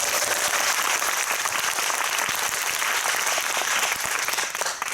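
A cinema audience at a post-screening Q&A breaks into loud, sustained applause, many hands clapping densely for several seconds before it begins to thin out at the end.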